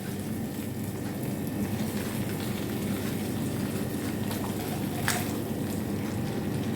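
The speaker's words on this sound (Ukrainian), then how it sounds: "І заливаємо кип'ячою водою." Boiling water pours into a jar of pickled cabbage in a steady stream with a continuous, bubbling hiss, close up and even throughout, with one brief clink near the end.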